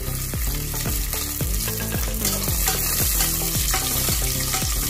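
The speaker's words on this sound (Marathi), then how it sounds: "आता हा मसाला तळलेला आहे, त्यातच आता काजू, मनुके घालून घ्या आपण" Masala frying in hot oil with cashews and raisins for Kashmiri pulao, a loud continuous sizzle broken by repeated stirring scrapes and clinks of a spoon in the pan, no voices.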